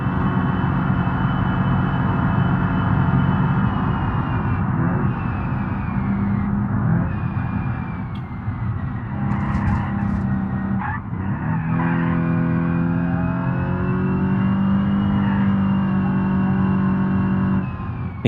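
Car engine in BeamNG.drive running low on oil, droning loud and steady for the whole stretch with shifting revs and tire skids while cornering, no talk over it.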